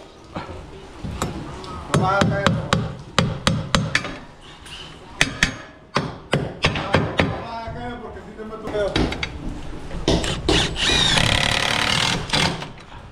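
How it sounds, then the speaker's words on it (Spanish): Rapid bursts of a power drill whirring close by, with sharp knocks and clatter between runs and voices talking over the work. "Dame el taladro."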